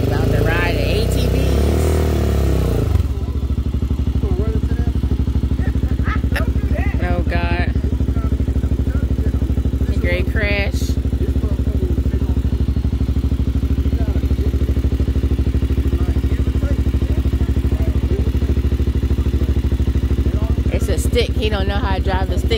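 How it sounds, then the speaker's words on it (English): An ATV engine idles and runs in a steady low drone through the whole stretch, with brief clatters and a louder burst at the start, while people talk nearby. "About to ride an ATV."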